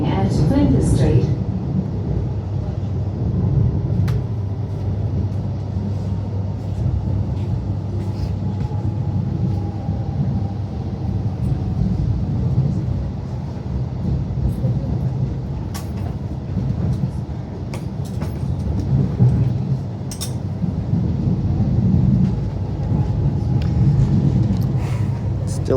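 A Melbourne Mernda Line train arrives at Flinders Street, its rolling rumble and rattle running continuously and fairly loud, with a station announcement voice heard over it.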